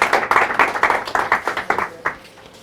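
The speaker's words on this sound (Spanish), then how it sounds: "vamos a aplaudir otra vez a Hugo" Audience applauding for Hugo, a speaker at an academic talk on social choice theory, with close, quick handclaps in a dense burst that thins into a few scattered claps before fading out.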